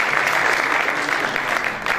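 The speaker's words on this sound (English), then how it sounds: "they deserve a round of applause" Audience applause at a medical presentation, continuous full clapping from a crowd, loud and even for the whole stretch.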